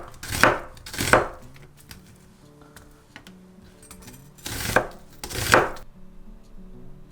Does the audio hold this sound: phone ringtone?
no